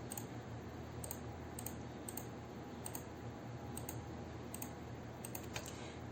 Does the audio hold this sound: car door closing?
no